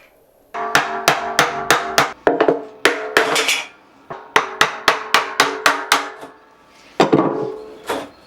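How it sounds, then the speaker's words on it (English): Sharp metallic blows of a hammer and bolster knocking hoops off a whisky barrel ring out in quick bursts of several strikes, pausing between groups, close and loud. "you just need to work your way around with a hammer and bolster until the hoop drops"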